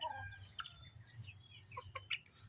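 Young pullet hens cluck and chirp in a farm coop, several short, scattered calls near and far over a low steady background hum, quiet overall with a few louder bursts toward the end.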